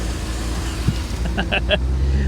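A Free Florida SwampVette Corvette engine runs steadily at idle right after a fuel leak repair, a constant low rumble throughout, with brief voices and a few sharp clicks over it.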